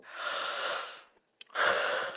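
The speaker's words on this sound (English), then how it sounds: "I can't stop yawning." A person yawns: a long, breathy exhale trails off into silence, followed by a brief sharp intake and another drawn-out airy breath, close up.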